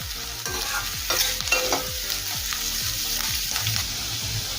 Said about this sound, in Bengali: গ্যাসের ফ্লেম মিডিয়াম টু হাই রেখে গাজরটা একটু নেড়ে নেব